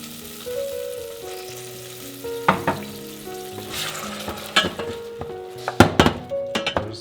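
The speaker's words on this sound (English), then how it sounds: "I'll just mix this around." Fermented pepper being stirred in a hot pan at close range, with a steady oily sizzle and irregular scraping knocks and clinks of a utensil against the pan, the hits growing louder and more frequent toward the end.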